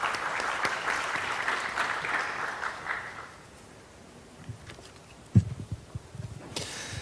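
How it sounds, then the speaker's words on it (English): A conference audience applauds a speaker at a biomedical conference in Seoul: steady clapping for about three seconds that fades out, then quiet room with a few bumps and handling noises. "Please welcome him with a big round of applause."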